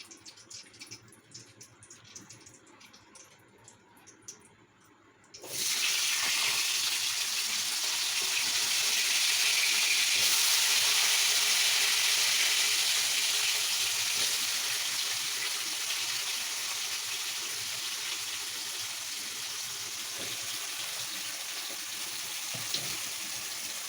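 Potatoes dropped into a hot pan set off a sudden loud, steady sizzle that swells and holds for many seconds after a quieter start, with no talking.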